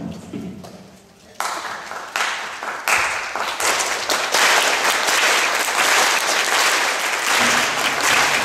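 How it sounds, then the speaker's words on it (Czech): A concert audience joins in clapping on every beat, starting softly and then swelling into a loud, dense, steady wash of hands, with a voice faintly mixed in. "tleskat jednoduše každou dobu"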